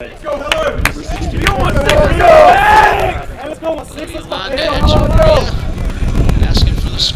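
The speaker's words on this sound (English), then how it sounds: "Hey, cheer on your teammates." Baseball players in the dugout shouting encouragement to teammates during a college game, loud overlapping voices calling out in bursts, with a pause midway before the yelling resumes.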